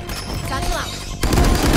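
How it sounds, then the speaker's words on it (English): A Raze satchel charge blasts in the Valorant video game, a sudden loud burst cutting in over busy game sound and voice chatter, then ringing on as a dense roar. "Satchel out."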